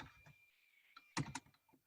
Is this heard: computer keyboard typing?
yes